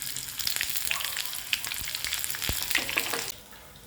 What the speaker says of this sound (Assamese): ইয়াতে এটা শুকান জলকীয়া দিলোঁ আৰু তেজপাত। ইয়াতে এতিয়া পিঁয়াজ দিছোঁ।